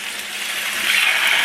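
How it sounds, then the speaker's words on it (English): A pot of water for rice boils on the stove, giving off a steady close hiss that grows slightly louder toward the end, with no voices. "We got our water boiling over here for our rice."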